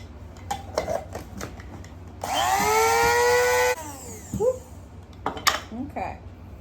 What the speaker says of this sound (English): I'm going to take my very cleaned out coffee grinder here, and I'm just going to put a pinch in.